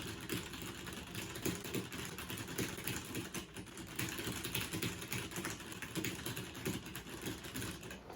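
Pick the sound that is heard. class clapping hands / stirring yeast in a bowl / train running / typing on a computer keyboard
typing on a computer keyboard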